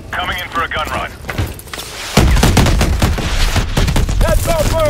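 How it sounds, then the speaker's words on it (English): Aircraft gun run in Call of Duty Advanced Warfare, a dense roaring stream of rapid gunfire and blasts that swells midway and keeps going, with shouting voices over it. "Falcon 2-2, coming in for a gun run."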